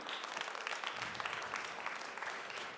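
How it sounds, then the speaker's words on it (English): A conference audience applauds as a speaker is welcomed onto a stage at a product-strategy event, with continuous, moderately distant clapping that sustains at an even level throughout. "Please come on stage and a big applause for Tim."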